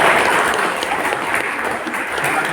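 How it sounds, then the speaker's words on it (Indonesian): A large indoor crowd of trade union workers at a May Day gathering in Central Java applauds, a dense steady clapping that holds throughout. "Tepuk tangan untuk bapak-bapak kita."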